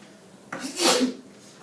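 A single short sneeze in a classroom, a sudden burst of breathy noise lasting under a second against quiet room tone.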